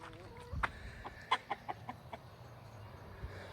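Chickens cluck out in a farm field, a cluster of short sharp clucks in quick succession over soft wind noise, fairly close by.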